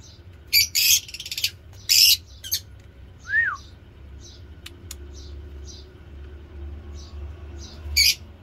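A lovebird with an injured chest and a leg problem gives several loud, harsh squawks in short bursts, close by, along with a rising call and light clicks in a quiet room.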